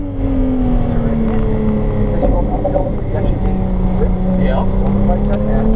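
A race car engine drones steadily from inside the cockpit as power is added, with a slowly rising and falling pitch, and a voice talking over it.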